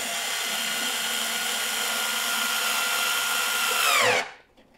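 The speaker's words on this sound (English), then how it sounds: "Push down when you're tightening the screw." A power drill drives a screw into a SNOO bassinet frame, a loud steady whine held for about four seconds that winds down abruptly and stops.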